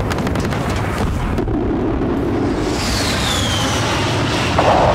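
Aircraft gun run airstrike in Battlefield Bad Company 2, a sustained heavy roar of engine and rumbling blasts filling the clip, loud and close, with a brief sharp burst near the end.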